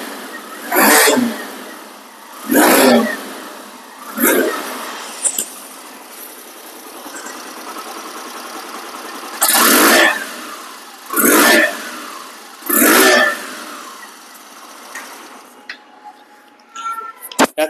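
A nearly new Hero Xtreme motorcycle in showroom condition idles, then the rider revs it in about six sharp bursts close by. Each throttle blip rises and falls quickly, with a quieter idle between them and a few clicks at the end.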